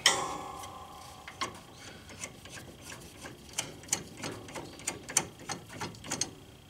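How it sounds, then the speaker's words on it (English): A 10mm wrench loosens the jam nuts on a 4x4 John Deere during a belt change, giving a series of light metallic clicks and ratcheting ticks in an irregular rhythm, close and fairly quiet. "we take the 10mm wrench, and whichever way we'll actually loosen it off. We loosen off the jam nuts"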